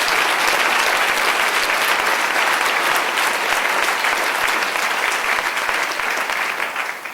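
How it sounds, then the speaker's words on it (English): A large audience at a school district education outlook presentation gives a sustained round of applause, loud and dense throughout, easing off slightly at the end. "Let's give them a round of applause for that historic achievement"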